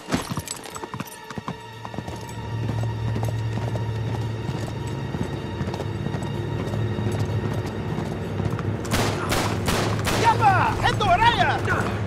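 Horse hooves clip-clop in a quick steady gallop in the video game Uncharted 3, rhythmic and fairly loud beneath a rumbling chase, with several sharp gunshots bursting in late and a voice calling out.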